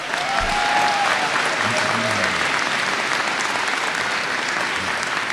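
A large crowd at a community college commencement applauds cum laude graduates with steady, sustained clapping that fills the hall at an even level from start to finish.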